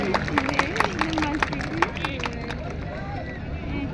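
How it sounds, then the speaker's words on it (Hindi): Audience at a Mumbra mushaira clapping and cheering, a loose burst of applause mixed with crowd murmur and a voice or two rising above the babble, fading out toward the end. "आपको तालियां जोरदार बजानी चाहिए इस लम्हे को यादगार बनाने के लिए"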